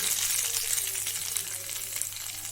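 Masala powder, salt and chilli powder frying in hot oil for semiya pulihora, a bright, steady sizzle with faint stirring scrapes over a low background hum.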